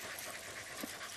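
Hunting dogs pant rapidly in the heat during a rabbit hunt in Villahermosa, Ciudad Real, a faint continuous breathy rasp heard nearby without any talk.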